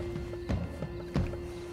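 Hooves clop in a loose rhythm in Red Dead Redemption 2, a few heavier thuds standing out over a steady tonal hum, with no voices.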